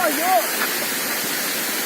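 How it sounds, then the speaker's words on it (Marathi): A waterfall roars in a steady, dense rush of broadband water noise from start to end, with a brief whistling tone near the beginning. "साहिल आपली काय प्रतिक्रिया असू शकते या धबधब्यावर"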